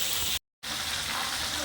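Okra frying in plenty of oil makes a continuous bright sizzle with a brief full dropout partway through, then the sizzle carries on steadily.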